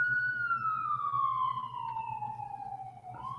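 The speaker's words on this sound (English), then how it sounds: "The sirens are great." A single police siren wails, its tone sliding slowly downward over a few seconds, fairly close over a low engine hum.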